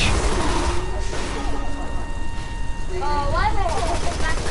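Rapid bursts of video game gunfire, like a fusillade, crackle steadily throughout, with game tones and voices mixed in.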